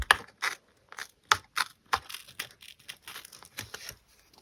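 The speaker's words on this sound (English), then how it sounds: "any that is overhanging I'm just going to cut off" Scissors or a blade cut off overhanging pieces stuck down on a cardboard master, a wineglass lampshade mould form, in short crisp snips and crinkling bursts spaced irregularly at close range, with no talk.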